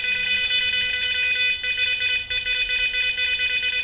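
A Garrett Ace Apex metal detector emits a steady, loud, high electronic tone that keeps sounding with only brief dips, close by and with no talking.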